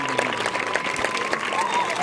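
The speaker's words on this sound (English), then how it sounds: "Give him a big round of applause." Audience applause at a bird show at Healesville Sanctuary in Australia, a steady patter of clapping held at an even level for the whole span, with faint voices mixed in underneath.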